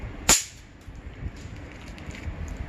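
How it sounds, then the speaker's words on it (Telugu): A Diwali pop bomb thrown onto the ground gives one sharp, loud snap near the start. Faint outdoor background noise follows and continues to the end. "ఎంత సౌండ్ వస్తున్నాయో చూడండి ఫ్రెండ్స్. కొడుతుంటే నేలకేసి కొట్టాలి."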